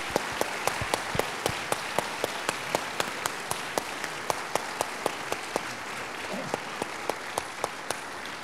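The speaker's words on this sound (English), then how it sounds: "please, let's show our applause for this wonderful dedication" Steady applause from an audience at a dedication ceremony celebrating gravitational waves fills the room, many hands clapping continuously with a few sharper claps standing out.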